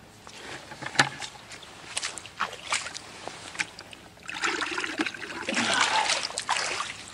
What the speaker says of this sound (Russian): Теперь надо набрать воды в садок.